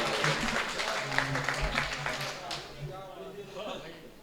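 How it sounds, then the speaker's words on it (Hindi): Audience applause welcomes a poet at a mushaira evening in Deoband, clapping from the crowd blending with a voice talking over it, strongest at first and thinning out after a couple of seconds. "जोरदार तालियों से इस्तकबाल करें मोहतरम।"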